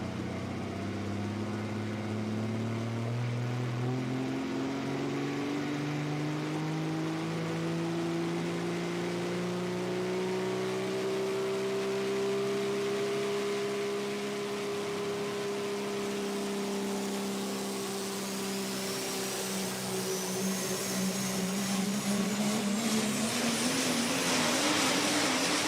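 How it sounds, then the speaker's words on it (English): Scheid Diesel Dodge Super Stock Diesel pulling truck at a truck pull at Darana Motorsports Park, a loud sustained engine roar whose pitch climbs slowly and then drops over a long continuous run, with no talk. "let's go Super Stock Diesel truck pulling the Scheid Diesel Dodge"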